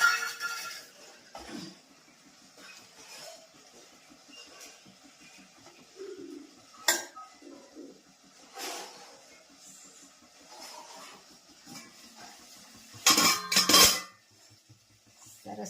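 A plate and cutlery clink in a home kitchen as a dish of khaman is set down during a mango pickle recipe. Faint scattered taps lead to a brief cluster of bright clatter near the end.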